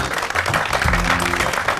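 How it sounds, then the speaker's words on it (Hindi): A studio audience on a morning television show claps loudly and densely, with a low humming tone starting partway through beneath the applause. "चले तालियां।"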